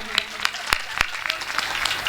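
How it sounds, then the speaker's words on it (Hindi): Audience at a devotional Hindi song and katha gathering clapping loudly, a steady patter of many hands with a few sharper claps standing out, close and continuous. "एक बार जोरदार तालियां बजाएंगे"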